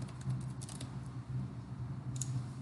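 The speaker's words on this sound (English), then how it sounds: "So I'm going to type a string," Typing on a computer keyboard, quick bursts of light key clicks with short gaps in between, close and fairly quiet, with no talking.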